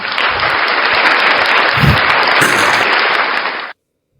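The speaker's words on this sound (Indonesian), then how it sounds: "Tepuk tangan buat Tuhan." Dense, loud applause from an audience at a live religious debate fills nearly four seconds, then cuts off abruptly into silence.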